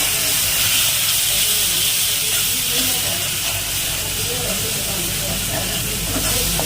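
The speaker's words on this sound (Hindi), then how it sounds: "अब यहीं पर इन मसालों को अच्छी तरह से सोटे कर लेंगे।" Whole spices with crackled cumin sautéing in a pan for a Jitiya vrat meal, a steady loud hiss and sizzle running unbroken throughout with no talk.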